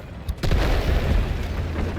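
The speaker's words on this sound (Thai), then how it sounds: "เฮ้ย ระเบิด" A heavy explosion in the video game Delta Force booms suddenly and is followed by a rumbling, crackling roar that fills the rest of the moment, loud and close.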